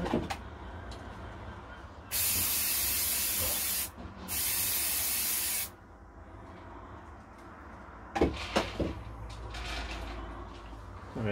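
An aerosol can of isopropyl alcohol video head cleaner sprays inside a Philips VR2022 VCR in two loud, close hissing bursts, the second longer, followed by quieter handling clatter.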